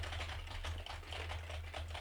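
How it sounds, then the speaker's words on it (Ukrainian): Keys clatter steadily on a computer keyboard in a home room during a microphone test, a continuous run of soft rapid clicks heard close over a low steady hum, with no talk. "Давайте по клавіатурі."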